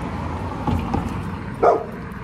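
A large dog barks outdoors in a garden, giving a few short separate barks with a louder final yelp, fairly close and heard alone.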